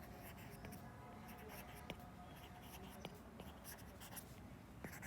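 Pen or pencil scratching on paper during notice-writing practice, a steady faint scribble with a few sharper taps, continuous and quiet with no voice over it.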